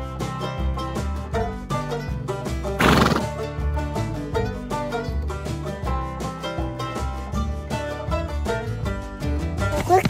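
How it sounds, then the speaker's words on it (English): A horse whinnies over a busy, steady musical backing, with a short burst of noise partway through and a thumping rhythm that suggests hoofbeats. "You gotta come this way so you can see the separate horse"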